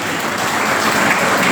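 Loud, steady applause from an audience at a national seminar, welcoming the chief guest with flowers and a shawl, a dense continuous wash of many hands clapping throughout.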